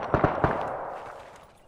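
Three sharp gunshots crack in quick succession in the video game Arma 3, followed by a fading echoing tail and faint background rumble.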